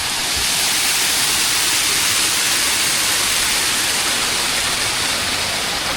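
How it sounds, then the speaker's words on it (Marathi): A roadside waterfall on the route to Amboli roars in a loud, unbroken rush of white water that fills the scene, with no voices. "असे धबधबे आहेत पूर्ण."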